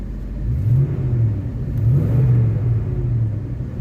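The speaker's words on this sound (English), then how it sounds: "gotta love that sound of that 302" A Ford 302 V8 engine in a 1986 Mustang with a leaky exhaust idles with a deep, steady rumble, briefly revving up and settling back, close by with no talking.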